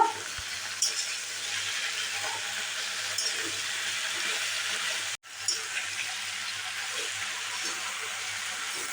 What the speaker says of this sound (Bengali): আর একটু হলুদ দিয়ে দিচ্ছি একটু নুন দিয়ে দিচ্ছি এবার ভালো করে নাড়িয়ে নেব